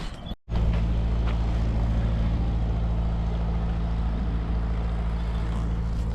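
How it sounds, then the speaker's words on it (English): A canal boat chugs past on a canal, its low steady engine drone close and continuous with no talk over it. "And the first canal boat I've seen of today."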